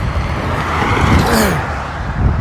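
Street traffic runs close by, loud and continuous, as a vehicle rushes past with a broad swelling whoosh.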